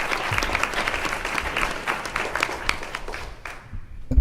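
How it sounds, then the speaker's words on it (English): A conference audience gives a congressman a warm round of applause, a full, continuous clatter of many hands sustained for several seconds before trailing off at the end. "let's just give the congressman a round of applause before he says a word"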